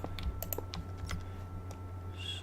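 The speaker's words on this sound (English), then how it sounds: "I'm really aware of how loud my keyboard is" A handful of crisp keyboard clicks sound in quick succession during Minecraft play, then thin out to a quiet hum. The keystrokes are close and unaccompanied by speech.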